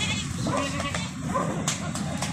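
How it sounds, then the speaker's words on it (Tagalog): A large herd of goats bleats in several short, wavering calls over outdoor background noise, with people's voices mixed in. "ang daming kambing"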